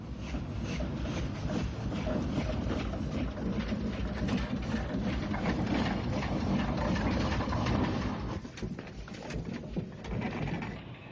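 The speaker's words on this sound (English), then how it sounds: "It was really a traction engine on rails, complete with flywheel." An Aveling and Porter traction engine on rails, a flywheel-equipped locomotive from a lime works, runs with a steady, loud mechanical chuffing and clatter, continuous and fairly close, with a rougher rhythmic texture throughout.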